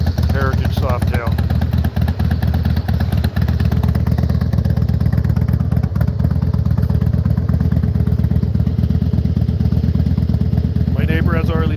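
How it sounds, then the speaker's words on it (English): A Harley-Davidson 88 cubic inch Heritage Softail idles with a loud, deep, steady rumbling throb close by, running under a voice talking throughout. "This is a 88 cubic inch Heritage Softail."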